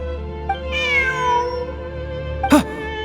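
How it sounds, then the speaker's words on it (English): A cat in the video game Genshin Impact gives a clear, fairly close meow that rises and trails off, followed by a short, sharper chirping call. No one speaks, and a quiet background hum runs underneath. "Look! A cat!"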